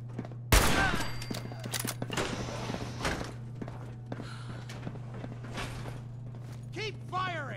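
Gunfire in the video game Fallout 4 opens with a sharp loud blast, followed by a scattered series of shots, mechanical clicks and footsteps over a steady low hum, with faint voice-like sounds near the end.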